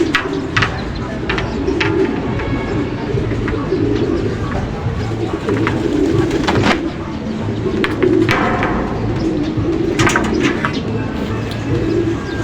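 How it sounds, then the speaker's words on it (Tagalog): Pigeon or dove on a rooftop antenna, with soft repeated coos and chirps close by over a steady outdoor background hum, plus occasional brief rustles. "So magiging problema nga natin ang ibon na ito guys, na laging dumadapo dito sa antena."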